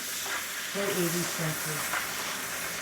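Side belly pork frying in a pan, a soft steady sizzle and hiss throughout, with a faint voice briefly audible beneath it.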